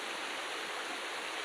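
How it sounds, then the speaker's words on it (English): Jungle waterfall on Kulin Mountain: a steady, dense roar of falling water, even and unbroken, heard alone without any voices. "Wow, look at this amazing waterfall"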